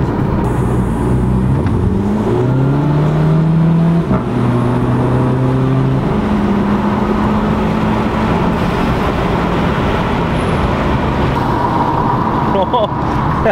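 A car engine fitted with a high-flow cone air filter revs repeatedly, rising and falling in pitch with a loud, continuous intake roar close up, with no talking heard.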